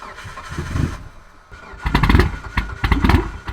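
A Mitsubishi Evo with a fully built engine cranks but fails to catch, giving two loud bursts of rhythmic chugging separated by a brief pause, close by and with no one talking.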